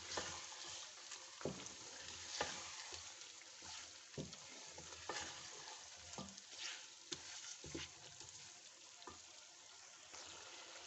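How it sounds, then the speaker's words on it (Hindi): Chicken frying in a pan with salt and chilli for a mutton-style kachnar gosht, a constant crackling sizzle broken by repeated stirring scrapes and knocks at a moderate, fairly quiet level. "चार से 5 मिनट हो गए चिकन को फ्राई होते हुए"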